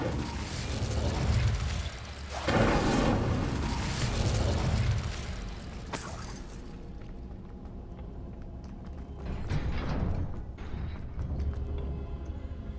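Incendio fire spell cast in Hogwarts Legacy, heard as loud fiery bursts and whooshing blasts, one big flare-up followed by another and a later smaller burst over a steady game rumble.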